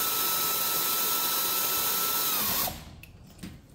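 Power tool tightening brake caliper bolts on a Buick Verano, a loud continuous whirring drone that cuts off abruptly, followed by faint clicks and handling noises.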